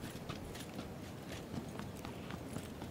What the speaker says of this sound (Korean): 발소리